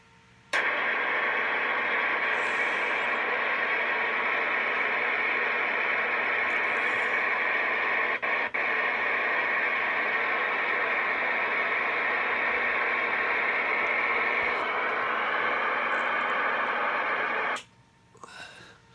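CB radio audio plays through a President Washington radio converted into a speaker, a steady hiss of static and noise that starts abruptly, holds evenly for about seventeen seconds, then cuts off.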